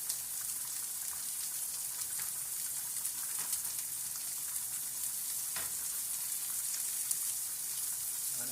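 Shrimp sauté in a pan for tomato, basil and garlic pasta, giving a steady close sizzle with light spattering crackles throughout and no talking.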